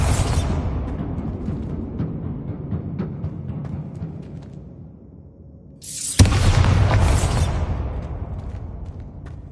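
A Bombarda blast spell in Hogwarts Legacy sounds as a loud burst at about six seconds that rolls into a long, heavy rumble, following a fading earlier boom and softer crackling debris.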